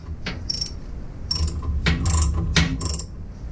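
A hand ratchet loosens bolts on a Jeep TJ torque converter, giving several short bursts of rapid metallic clicking separated by brief pauses, close up, with no speech.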